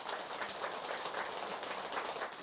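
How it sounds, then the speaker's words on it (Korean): An audience at a Buddhist monk's dharma talk gives quiet, distant applause, a soft, dense patter like rain that holds steady throughout. "우리 이숙희 보살이 박수 한번 드리세요."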